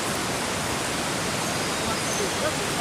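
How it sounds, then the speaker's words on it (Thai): Steady broadband rush of water at the base of the Mae Ya waterfall in Thailand, a continuous close roar filling the whole clip with no other sounds standing out. "ตอนนี้ผมอยู่ที่ด้านล่างของน้ำตกนะครับ"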